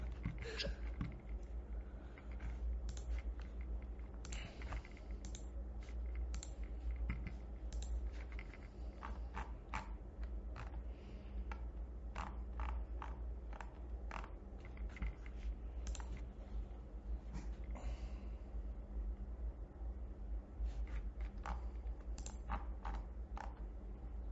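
Rapid clicking of a computer keyboard being typed on, with quick irregular bursts of keystrokes running steadily over a low background hum, no speech.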